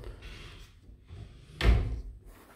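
Closet doors in a bedroom of a home being shown for sale, a quiet rustle of movement followed by a single close, firm thud as a door shuts, then brief fading rumble in a quiet room.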